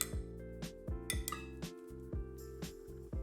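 Repeated clinking of a utensil against a bowl while pumpkin and apple batter with kefir is stirred, a steady rhythm of about a dozen close, bright taps with no talking.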